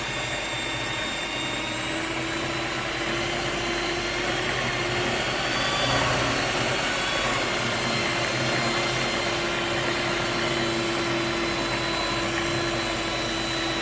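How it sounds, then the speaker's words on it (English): A stand mixer kneads bread dough at medium speed with a loud, continuous motor hum and whine that holds steady throughout. "Since we are using a stand mixer, we can mix this for like up to 7 to 9 minutes"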